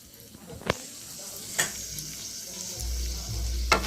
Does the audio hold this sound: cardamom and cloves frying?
yes